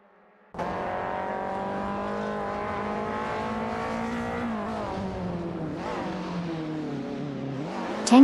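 BMW 320si race cars in an AI racing game, with a loud, sustained engine drone holding steady, then revving and shifting pitch, and a brief tire squeal near the end.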